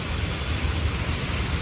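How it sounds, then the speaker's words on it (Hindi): Heavy rain pours steadily and loud on a stormy day, with low rumbling thunder rolling underneath the dense hiss throughout. "और तेज हो गई गाइस बारिश"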